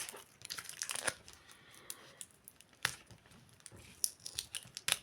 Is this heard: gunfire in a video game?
no